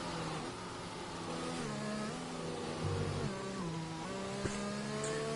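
A Formula 1 racing car on full wet tyres heads out onto the Belgian Grand Prix track in an F1 video game, its engine droning and rising through gears, steady and fairly close throughout.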